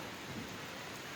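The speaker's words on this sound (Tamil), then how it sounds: "அது பேய் மழை பெய்யுது பாருங்கள்." Steady heavy rain falls at night near a teak forest along a hill road in Kumily, Kerala, a continuous soft broadband hiss that stays faint and distant throughout, with no voices.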